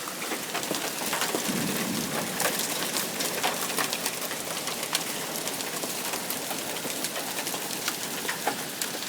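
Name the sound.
hailstorm, large hail falling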